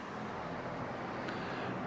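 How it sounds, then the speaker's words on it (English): Steady street traffic noise in San Francisco, heard from the City Lights Bookstore editorial office: a continuous low rumble of passing cars and engines, with no one talking. "with some traffic noise which may punctuate the poems"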